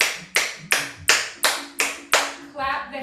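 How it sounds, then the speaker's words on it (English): Seven sharp, evenly spaced hand claps ring out close and loud during a kundalini meditation flow, each with a short room echo, followed by a soft trailing sound at the end. "The hands clapping clears space, clears the space."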